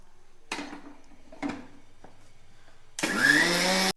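A mixer grinder powdering sugar starts after a few sharp clunks and bumps, then roars loudly and steadily through the final second.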